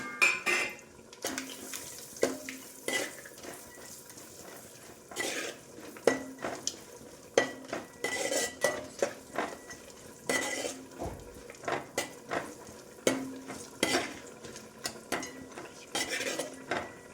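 A spoon scrapes and clinks against a pan while fried rice is mixed and raisins and cashews are added, with irregular, fairly quiet metallic taps and stirring rustles over a faint background hiss.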